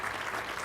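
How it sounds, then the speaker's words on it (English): An audience at a mayor's inaugural speech applauds for two assembly candidates, a dense, steady clatter of many hands filling a short moment. "We'll give them both a round of applause."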